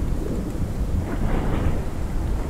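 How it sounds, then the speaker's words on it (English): Heavy rain in the horror game Pacify, a dense, constant broadband wash with low rumbling beneath, steady and fairly loud throughout with no talking. "It's kind of raining heavily."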